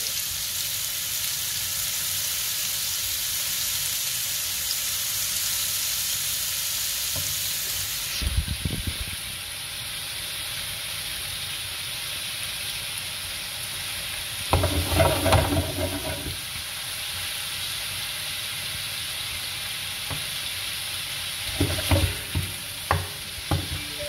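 Meatballs sizzle and brown in a hot pan for a tomato tagine, a steady loud frying hiss throughout, broken by a few clattering stirs and scrapes, with no talking.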